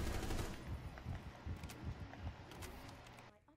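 Rapid bursts of gunfire from a gun in Rainbow Six Siege, repeated sharp shots in uneven clusters, fairly quiet and with some distance.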